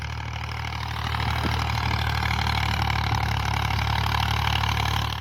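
A brightly decorated tractor plows a farm field, its engine droning steadily and loudly at close range throughout, with no talk over it.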